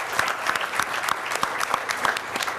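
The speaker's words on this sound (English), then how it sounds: "warm round of applause to all the winners" Warm applause for competition winners at a conference awards session, a steady patter of clapping from a moderate crowd lasting throughout, no voices.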